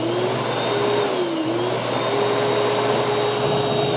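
A commercial wall-mounted high-speed automatic hand dryer blows in a loud, steady, close whoosh of forced air with a faint whine riding on top, running continuously without pause.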